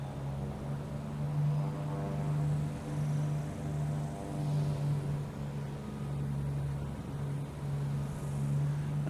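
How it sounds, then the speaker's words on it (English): JetBlue Airbus A320 arriving at Boston Logan, a steady droning engine hum with a gently swelling, whooshing roar, moderately distant and continuous. "We have a JetBlue coming from Fort Lauderdale,"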